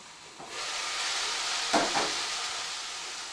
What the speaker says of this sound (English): put the lid on, just generate a little bit of steam and soften them a bit